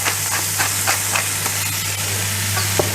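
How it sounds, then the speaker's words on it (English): Vegetables frying in oil in a braising pan give a steady sizzle with soft stirring scrapes every half second or so, over a constant low hum, close and fairly loud. "I'm just going to take on a little more oil in here, just to get those vegetables cooking."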